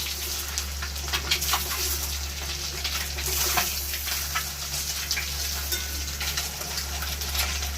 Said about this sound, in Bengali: আমার একদিক ভাজা ভাজা হয়ে গেছে আমি আর একদিক ভেজে নেব